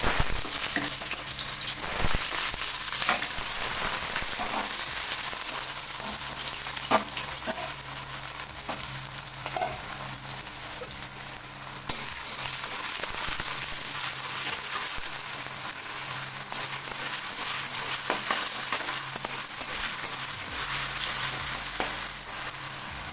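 Steady, loud sizzling of potatoes frying in hot white oil in a wok, a continuous crackling hiss with occasional stirring clatter, no voices.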